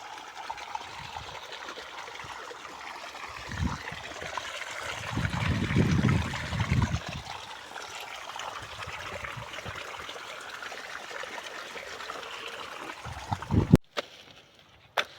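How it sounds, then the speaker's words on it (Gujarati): Water from a pump motor pours into an irrigation channel in a cotton field, a steady broadband rush and trickle that swells briefly midway, then cuts off near the end. "હવે જો મોટર ચાલુ કરી છે, વણમાં પાણી જાય છે,"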